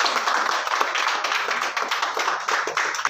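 A crowd claps at the inauguration of a diamond and gold jewellery showroom, a brisk patter of hand claps close by, with individual claps standing out in an uneven rhythm.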